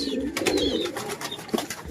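A pigeon coos in low, soft, repeated throaty murmurs, close by, over a steady background hiss.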